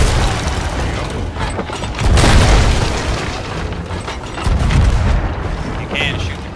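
Ship cannons firing during a pirate sea battle in Sea of Thieves, heavy rumbling booms swelling twice over a constant roar of wind and water, loud and close with clattering mechanical noise.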